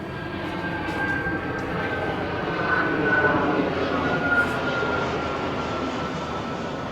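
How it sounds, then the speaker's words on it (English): A large jet airliner passes overhead outdoors, giving off a loud, steady engine roar and rumble that swells slightly in the middle and holds throughout, with no talking. "Big old jet airliner."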